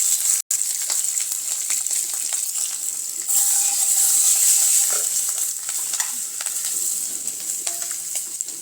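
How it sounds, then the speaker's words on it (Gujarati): Steady, loud sizzling of mustard seeds, cumin, fenugreek and green chilies hitting hot oil, with occasional stirring clinks and a brief sharp tap early on; no voices. "આપણે સરસ એવો વઘાર થઈ ગયો છે"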